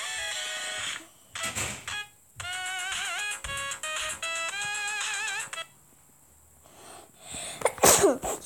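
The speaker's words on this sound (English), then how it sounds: "I just sneezed." A single sharp sneeze bursts out loudly near the end, after a stretch of a phone ringtone-like melody and some quiet room noise indoors at home.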